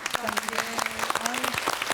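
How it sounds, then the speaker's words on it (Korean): Brief scattered applause from a studio audience on a live broadcast about flood recovery, with a voice speaking over the clapping. "박수 한번 보내드립니다"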